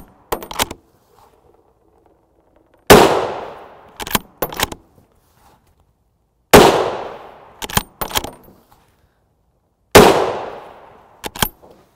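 Three loud, sharp 7.62x51mm .308 rifle shots of 168-grain OTM match ammunition fired outdoors at a range, each followed by the light metallic tinkle of ejected brass casings landing nearby.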